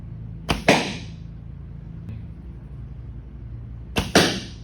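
Two arrows tipped with broadheads strike a target a few seconds apart, each a sharp close thwack with a short ringing decay, against a quiet background.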